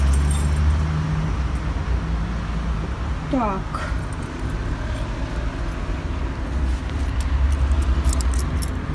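Keys jingle for a moment while a woman unlocks the street entrance door of an apartment building in Milan. The rattle is close and short, with steady traffic noise behind it, and she says a word.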